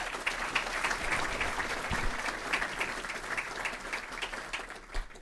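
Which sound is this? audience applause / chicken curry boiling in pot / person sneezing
audience applause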